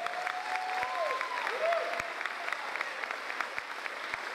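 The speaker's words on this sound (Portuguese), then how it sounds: "Você pode aplaudir Jesus direito aí" Church congregation applauds during a sermon, a soft, distant wash of clapping with a few sharper claps standing out, while the preacher's voice carries on over it.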